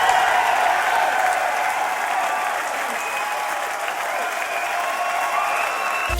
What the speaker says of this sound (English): while I was there, I recorded this applause